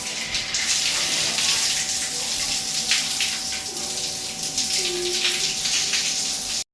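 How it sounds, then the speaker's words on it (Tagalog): A shower runs steadily for a child's bath beside Taal Lake, a constant close hiss of spraying water that continues unbroken before cutting off abruptly at the very end. "Dito ino-open ko na yung shower."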